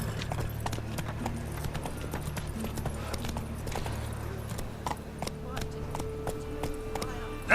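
Roach, the horse in the video game The Witcher 3: Wild Hunt, gallops with a fast, steady clip-clop of hooves, mixed with game background sounds and someone talking over it.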